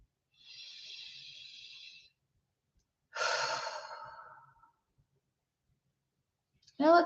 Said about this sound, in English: let's take another deep breath